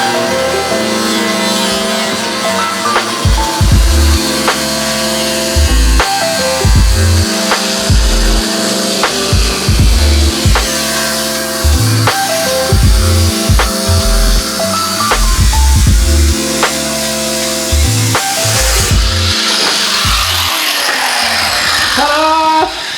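An angle grinder cuts through car body metal around the wheel wells in loud, repeated bursts, its harsh whine rising and dropping with short pauses between passes.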